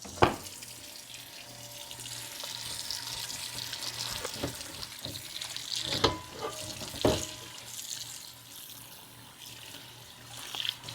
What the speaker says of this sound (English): I'm going to give it a good washing.